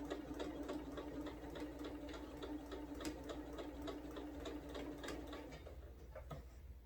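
Sewing machine stitching a quilted placemat, a close, steady fast rhythmic clatter of needle strokes running for several seconds before easing off near the end.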